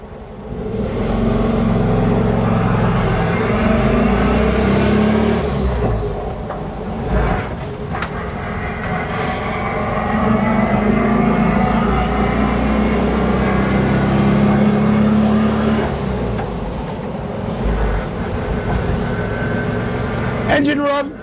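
A 1965 VW Bus engine revving while driving, a steady loud drone that swells and eases through the run, with road rumble and transaxle noise and someone talking over it.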